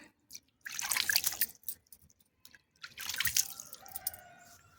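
Water poured onto a freshly planted marjoram cutting in soil, heard as two separate bursts of splashing and dripping, the second one trailing off into a thin trickle, with quiet pauses around them.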